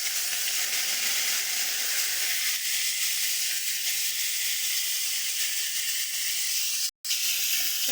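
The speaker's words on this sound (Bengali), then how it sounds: "তেল গরম, এর মধ্যে ফুলকপিগুলো ভেজে নেব।" Cauliflower pieces fry in hot oil, giving a steady, bright sizzle and hiss that holds at an even level throughout, with a brief break near the end.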